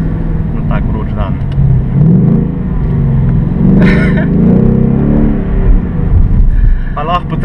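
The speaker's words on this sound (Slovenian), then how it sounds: "Pa lahko potrdiva, da je izpušni sistem precej boljši in pa precej glasnejši od prejšnjega." A 2018 Ford Mustang GT rumbles deeply through its exhaust, the low engine note swelling and easing in loud close revs, with people talking over it throughout.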